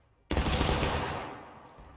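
A massed musket volley fires at once in a Civil War battle in the game War of Rights, a single loud crack that rolls into a long, slowly fading rumble and echo across the field.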